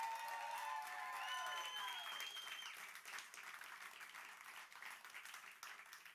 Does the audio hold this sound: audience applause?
yes